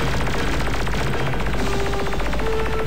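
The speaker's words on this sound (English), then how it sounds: "every time you shoot, you actually fire the handgun and or the machine gun or whatever," Machine gun and rockets firing in the video game Ultimate Crab Battle: loud, rapid, continuous bursts of gunfire that run the whole time, close and dense, with no talking.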